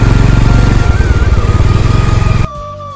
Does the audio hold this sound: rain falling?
no